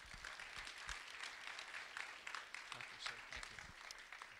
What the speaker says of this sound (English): A round of applause for Dr. Atkins.